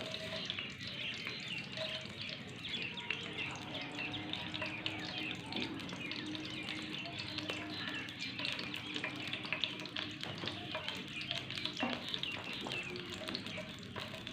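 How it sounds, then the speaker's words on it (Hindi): Cardamom, cinnamon, cloves and chillies frying in hot oil for a desi egg and chickpea dish, a soft continuous crackling sizzle with small pops, faint and steady, with no talking. "इसको थोड़ा सा हम एक आधा मिनट फ्राई करेंगे।"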